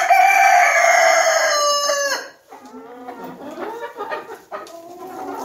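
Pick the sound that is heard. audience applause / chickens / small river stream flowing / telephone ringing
chickens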